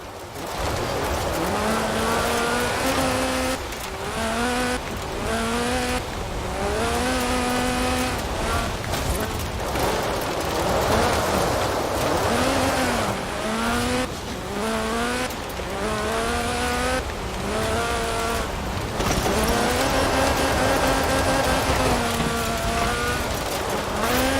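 Lotus Sunbeam with a 2.2-litre slant four-cylinder engine driven in Forza Horizon 4, its loud engine rising and falling in repeated pitch sweeps through gear changes, with tyre squeal, sustained throughout.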